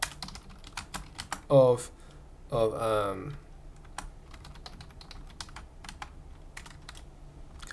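Fingers tap on a computer keyboard in a quiet room, giving a quick, irregular run of sharp clicks. Two short bursts of speech interrupt the typing.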